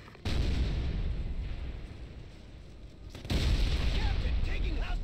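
Hostile gunfire and explosions in the shooter Ghost Recon Advanced Warfighter 2: loud, booming blasts surge in twice over a heavy rumbling din of combat, with a voice faintly present.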